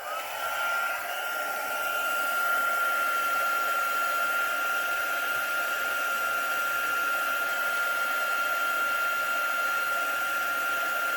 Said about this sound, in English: And now I'll just get my heat gun and dry this.